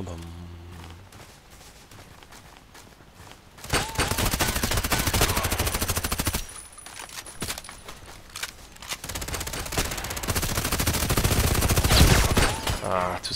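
Heavy weapon fire in the online shooter Contract Wars: dense bursts of rapid automatic gunshots in long volleys, loud and close, with a pause between bursts and a quiet voice talking beneath.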